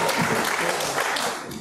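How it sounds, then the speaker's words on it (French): An audience at a lecture applauds briefly, a dense, even burst of clapping from many hands. "on peut les applaudir bien fort"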